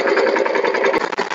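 A power tiller chugs along in a cotton field where ridges are being formed, its engine close and loud with a quick, even throb that dips briefly near the end.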